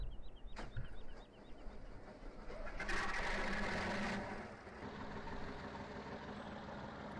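A K-701 tractor engine idles in the Farming Simulator 2015 game, a steady low mechanical hum that swells briefly midway. Faint clicks sit over the top, and no one talks.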